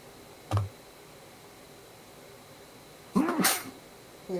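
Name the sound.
sneeze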